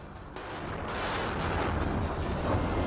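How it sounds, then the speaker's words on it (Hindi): Continuous rumbling roar of distant gunfire and blasts in Sudan, dense and sustained with no clear individual shots, loud throughout. "बाहर से लगातार फायरिंग की आवाजें आ रही हैं"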